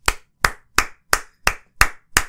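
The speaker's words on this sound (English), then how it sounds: "Even Geralt had to applaud that." A slow, deliberate clap from a character in The Witcher 3: Wild Hunt game trailer: seven crisp, evenly spaced hand claps, close and distinct, with silence between them.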